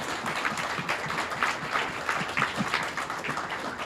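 An audience at a conference hosted by MLC School applauds with a steady, even wash of many hands clapping, moderately loud and continuous throughout.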